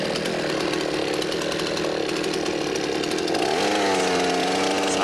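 A chainsaw runs at full throttle as its chain bites into a tree trunk for a horizontal felling cut. The engine roars loud and close without a break, its pitch dropping and wavering as it loads into the wood.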